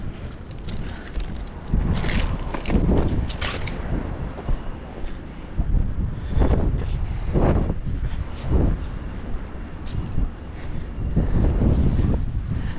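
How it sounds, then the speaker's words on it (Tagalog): Wind blowing at sea, buffeting the microphone in rough gusts that swell and drop over steady rumbling background noise, loud and close throughout. "Yan ang hangin."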